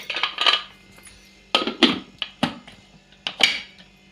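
Metal clanks and clatters as a pressure cooker lid and cap are set and closed over vegetables for curry, several sharp clinks in short bursts, close and fairly loud with no talk.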